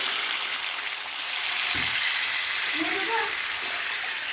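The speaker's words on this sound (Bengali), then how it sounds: "এখন 2 মিনিট এটাকে ফুটাবো।" Spiced kofta mixture with a little water added bubbling and simmering steadily in a pan, a constant close hiss with brief stirring sounds, alongside a speaking voice.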